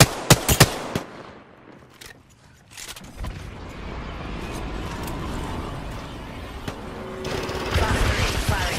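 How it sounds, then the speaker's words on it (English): Missiles are launched in the Apex Legends arena mode with a few sharp close bangs at the start, then a rushing, rumbling stretch and more clustered blasts near the end, with a voice speaking partway through. "Firing missiles"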